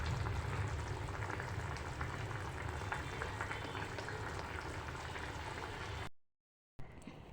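Garlic going into a hot pan while okra thoran cooks gives a steady, dense bubbling sizzle that runs loud and even, then cuts to silence near the end before a brief return.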